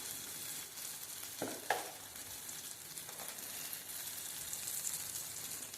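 Onions and tomatoes sauté in hot oil for a Tamil-style fish curry, giving a steady, soft sizzle with a couple of brief louder crackles and stirring scrapes, no one speaking.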